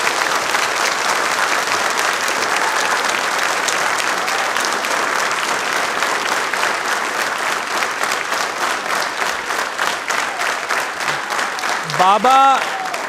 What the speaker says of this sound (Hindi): तालियां इनके लिए जोरों से, दिल से बजाएंगे